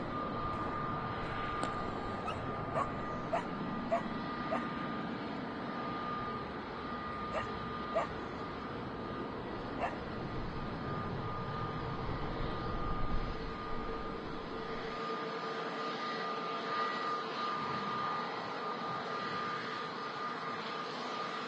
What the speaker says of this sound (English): Another aircraft about to appear from behind the terminal.